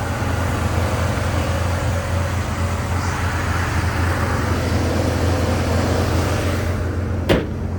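A 1969 Chevy Corvair Monza coupe with its 110-horsepower air-cooled flat-six idles smoothly with a low, steady exhaust burble, close by and constant, with a brief sharp click near the end.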